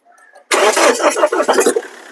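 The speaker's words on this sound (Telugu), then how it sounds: "ఒకసారి కార్ స్టార్ట్ చేయి" A 2017 Mahindra XUV500 W10 diesel SUV starts on a single crank: brief faint cranking, then a loud abrupt catch into a rough, close engine roar that settles over about a second and a half.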